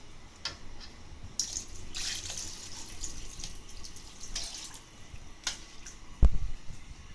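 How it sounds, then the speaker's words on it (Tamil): Water splashes and trickles intermittently into a pot of fish curry in short bursts, fairly close, ending with a sharp clunk. "இப்போ தேவைக்கேற்ப தண்ணியை ஊற்றி போகிறோம்."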